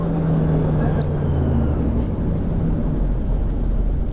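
Rotorsport UK Cavalon gyrocopter air taxiing a few feet above the ground, a dense, loud low engine and rotor drone heard from on board, steady throughout with a voice talking over it.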